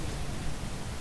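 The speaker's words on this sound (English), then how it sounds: "It's a vacuum cleaner that's on" A vacuum cleaner runs in the video game Murdered: Soul Suspect, giving a steady, close, broadband whooshing roar with a low rumble that holds evenly throughout, with no talking.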